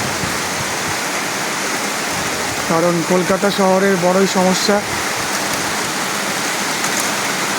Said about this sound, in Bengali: দেখতে পাচ্ছেন কীভাবে মুষলধারে বৃষ্টি পড়ছে।